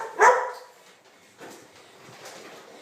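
Dogs in kennels bark, one sharp nearby bark followed by fainter, more distant barks and yips echoing through the kennel space.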